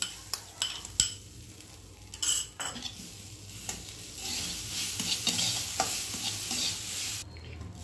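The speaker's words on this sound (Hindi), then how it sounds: "इस नारियल के बुरादे को हमें अच्छे से भून लेना है" Grated coconut being roasted in a pan with mixed dry fruits, quiet sizzling under irregular spatula scrapes and clinks, with a brief louder hiss near the end; no speech.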